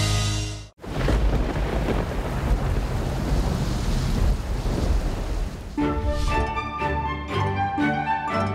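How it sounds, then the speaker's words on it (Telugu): Heavy rain pouring down hard, a loud, dense, continuous roar filling the whole stretch after a brief dip, with rumbling low noise like a storm and no speech. "వర్షం బాగా ఎక్కువగా కురుస్తోంది"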